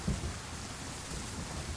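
Steady rain falls in the DayZ video game as a dense, even hiss of broadband noise with a low rumbling undertone, continuous throughout and fairly quiet.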